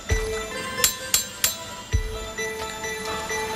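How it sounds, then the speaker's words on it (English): A trowel striking a hard, rock-like surface in a movie scene, giving a few sharp metallic taps in quick succession and then a duller knock, with a faint hum underneath. "when hitting it with a trowel"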